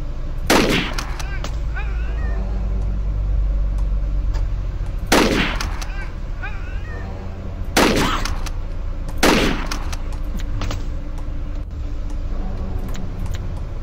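Weapon fire in the video game Nuclear Outrun, a short-range, high-damage gun: four loud, sharp blasts spaced a few seconds apart over a steady engine-like rumble, each trailed by brief chirping effects.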